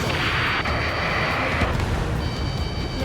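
A rocket explosion in the Ace Combat 7 combat flight game, heard as a loud sustained roar and rumble of blast and jet noise that fills the whole stretch, with a sharp break partway through.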